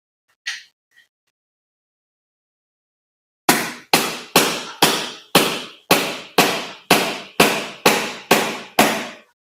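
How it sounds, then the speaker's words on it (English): A sharp steel chisel struck by a hammer on a Toyota 1MZ V6 engine, a dozen loud, evenly spaced metallic blows after a couple of short earlier knocks. "I'm using a very nice sharp steel chisel."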